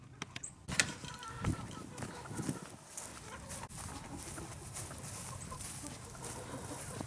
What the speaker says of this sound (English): And now to the chickens.